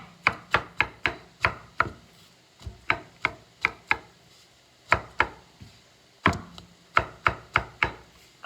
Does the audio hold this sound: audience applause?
no